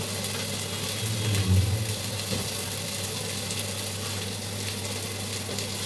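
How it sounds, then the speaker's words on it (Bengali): Chopped onions frying lightly in oil for a Bengali hilsa fish curry, giving a steady, even sizzle that stays close and continuous throughout with no voices over it. "তেলে আমরা এখন পেঁয়াজ কুচি দিয়ে দিব, দিয়ে এটাকে আমরা হালকা ভেজে নিব"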